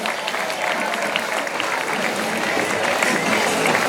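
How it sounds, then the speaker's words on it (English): A street parade crowd claps for a passing youth dance group at a flower carnival, a dense, sustained wall of applause that stays even and loud throughout, with faint voices mixed into the crowd noise. "Give them a big round of applause."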